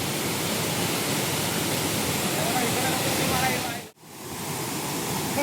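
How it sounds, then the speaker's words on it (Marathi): A forest waterfall roars in a dense, steady rush of falling water close by, broken by one brief dip before the torrent resumes. "अवघा धबधब्यावरती फायनली मुन्ना पोचलेला आहे."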